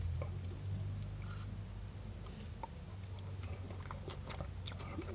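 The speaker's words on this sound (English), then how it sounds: "And now let's try the curry sauce." Someone eats fish and chips dipped in curry sauce at Mother Hubbard's in Yorkshire, with soft biting and chewing sounds close to the mic over a steady low room hum.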